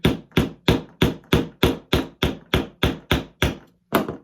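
A hammer strikes twelve times in an even, steady rhythm, sharp close knocks with a brief pause before the last blow.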